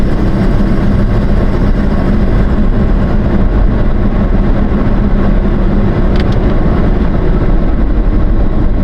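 A 1990 Ford F-150 pickup with a brake fault runs nearby, giving a constant loud rumbling engine noise with broad low-end roar and no change in pace, with a faint brief click near the end.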